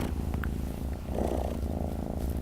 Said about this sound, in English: Hopefully you can hear all that purring on the camera there.